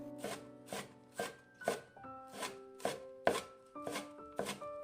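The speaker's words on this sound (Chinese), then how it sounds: "切成葱花。" A knife chops green scallions on a cutting board, about ten crisp, evenly spaced thuds, close and clear with no talking.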